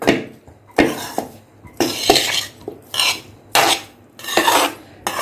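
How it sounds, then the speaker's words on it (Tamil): Flattened rice and coconut for puttu are mixed in a bowl with a utensil, giving repeated scraping and clinking strokes in an uneven rhythm, loud and close. "இப்போ இது எல்லாத்தையும் நல்லா மிக்ஸ் பண்ணி எடுத்துக்கோங்க."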